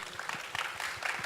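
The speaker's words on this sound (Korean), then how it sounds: "큰 박수 부탁드립니다." Scattered clapping from a small audience at a corporate presentation, fairly faint and uneven, with soft individual claps rather than a loud ovation.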